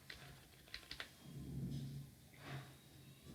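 Computer keyboard keys tapped while a sheet tab name is typed, a short run of light close clicks followed by a few softer scattered strokes over a low steady room hum.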